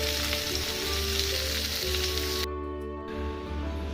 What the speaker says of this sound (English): I am making lady's finger and brinjal stir fry also.